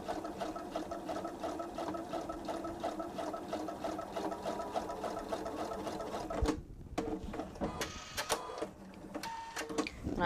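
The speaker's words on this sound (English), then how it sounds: "all I'm doing is stitching in the ditch, which means I'm stitching right along the seam line" A sewing machine stitches in the ditch along the seam of a quilted travel tote, its rapid needle rhythm running steadily and close, then pausing and restarting in short bursts near the end.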